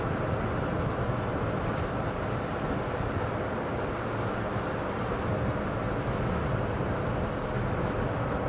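Wind noise inside a 2022 Citroen Ami electric car driving in the wet, a constant low rushing roar with no breaks and no talk.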